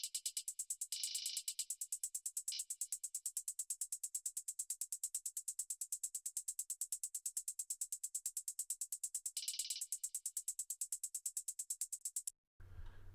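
Layered hi-hat parts from an electronic pop production tick in a fast, even, crisp pattern with occasional brighter open accents, running steadily before cutting off near the end.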